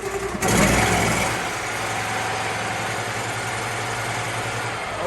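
A gasoline pressure washer engine starts with a sharp burst, then settles into a steady, close idle that runs on evenly.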